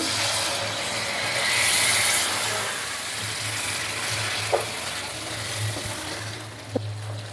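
Chicken simmering and frying in a pan of spiced masala for chicken changezi, a steady broad sizzle with a low hum underneath and a couple of brief utensil clicks.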